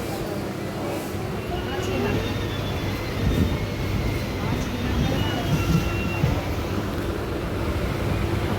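A loud, steady rumble of a train at Sealdah railway station, with low mechanical droning and clatter throughout.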